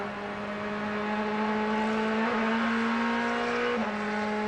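Extreme Speed Motorsports Ferrari race car on track at Sebring, its engine holding a loud, steady high-pitched drone with brief pitch shifts as it runs.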